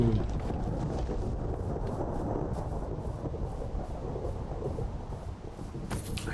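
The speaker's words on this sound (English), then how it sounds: "I guess it's a thunderstorm." A thunderstorm in the video game Minecraft rumbles as steady, dense low-pitched noise with rolling thunder and rain, loud and continuous throughout, with no talking.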